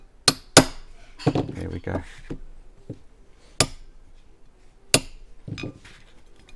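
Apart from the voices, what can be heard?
hammer striking pistol part during spring installation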